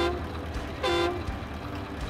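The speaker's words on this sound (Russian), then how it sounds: "Клаксон." A Kamaz dump truck rigged as a log hauler sounds its horn in SnowRunner, one steady honk of about half a second rising midway through over a constant engine rumble.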